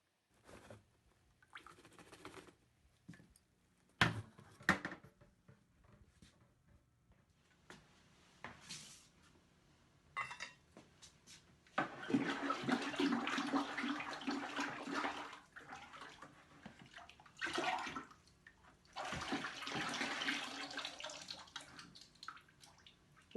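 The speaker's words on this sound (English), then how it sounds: "Here I am using my Talisman sieve to help break down the glaze and make it nice and smooth before applying onto the pieces." Clay glaze is pushed and scrubbed through a Talisman sieve in a pottery studio, producing wet, sloshing scraping in irregular bursts, with quieter pauses between strokes.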